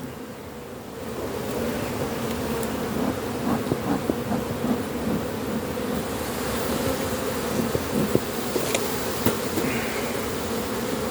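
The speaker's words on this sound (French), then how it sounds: "Quand même pas mal d'abeilles." A dense, continuous buzz of many honeybees from an opened, packed hive close by, a steady humming drone with individual bees whirring past.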